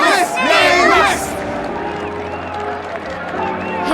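A crowd in the video game Honkai Star Rail cheers and shouts together in a burst of excited voices, then the noise falls back to a lower murmur of hubbub.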